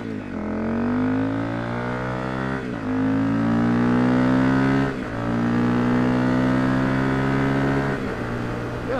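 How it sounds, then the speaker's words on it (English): A Honda CRF250L motorcycle with a Yoshimura RS4 exhaust and baffle mod rumbles steadily with a deep, throaty note, rising and falling as it revs through gear changes, loud and close throughout. "So maybe you get an idea of how the exhaust sounds with the mod."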